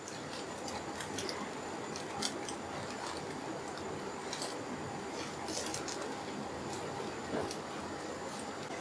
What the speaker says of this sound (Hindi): इस तरीके से हम छोटे छोटे पीसेस में काट लेंगे